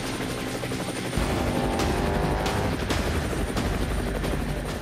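A hovering helicopter roars loud and close above a rescue boat during a hoist training exercise, its rotor chop and turbine wash filling everything in a steady, dense drone with no voices.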